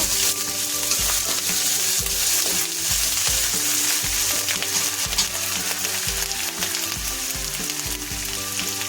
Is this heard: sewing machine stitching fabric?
no